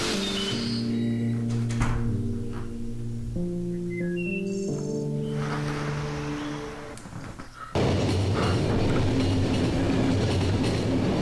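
Train travel in the video game The Final Station: a sustained rumbling ride with layered tonal hums and shifting pitches, then a louder rush of wheel and track noise, steady and close, with no talking.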